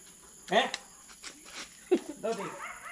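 A puppy gives two short, high yelps close by, with people talking softly around it.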